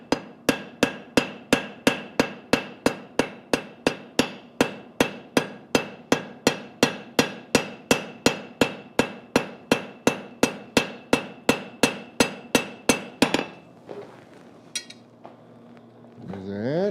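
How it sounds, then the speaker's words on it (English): A blacksmith's rounding hammer strikes hot metal at the forge in a fast, steady run of about thirty ringing blows, close and loud, then stops with some quiet shop noise. "I'm gonna clean it up a little bit with the rounding hammer."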